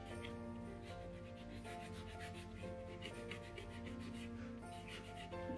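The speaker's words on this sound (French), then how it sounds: "là on est sur du lustrage maintenant" Polishing the frets of an electric guitar after leveling and reshaping, a steady close rubbing sound with a fast back-and-forth rhythm, continuous and even with no voices.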